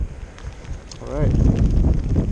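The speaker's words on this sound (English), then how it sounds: "Wind is picking up." Outdoor wind buffets the microphone by the water at a Tokyo seabass fishing spot, building to a louder rushing gust in the second half, with a brief voice and a bird call.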